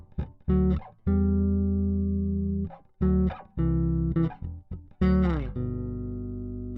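A bass guitar plays a chord progression moving from the fourth through fifth to sixth degree, with separate sustained chords ringing alone between short picked attacks and pauses.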